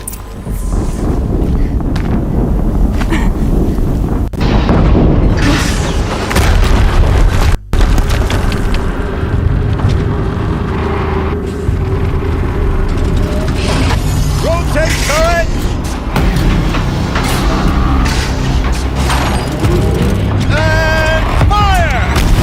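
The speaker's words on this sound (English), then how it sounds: "Another explosion." Explosions in the video game Horizon Zero Dawn boom through a loud, dense game soundscape with constant rumbling, and one sharp, abrupt burst stands out partway through.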